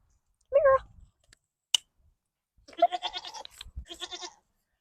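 A goat bleats once, loud and close, while being leashed for a belly measurement; after a short gap a second, longer wavering bleat follows, with a sharp click in between.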